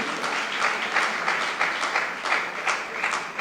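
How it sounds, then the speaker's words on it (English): An audience applauds for Honorable Alan Kyerematen at a Ghanaian memorial event, brisk, dense clapping from a crowd that swells in several pulses and carries on steadily and close. "I say a round of applause for Honorable Alan Kyerematen"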